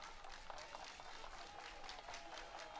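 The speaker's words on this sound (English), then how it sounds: "Crowd starting up the slow clap again" Faint, distant slow clap from the crowd at a Northwestern at Wisconsin college softball game, scattered claps repeating in a loose rhythm over a low ambient hum.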